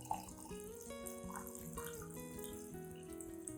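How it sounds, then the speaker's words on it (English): Warm water poured into a container to soak lemon peel, a continuous trickling splash with a brief louder spatter at the start, quiet and close with no speech. "Add 500 milliliters of warm water."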